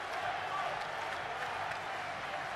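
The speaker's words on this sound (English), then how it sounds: "Listen to this raucous crowd." Raucous crowd noise fills a women's volleyball semifinal at the 2015 European Games, Turkey against Azerbaijan, a steady broad roar of cheering and clapping throughout, loud and continuous with no pauses.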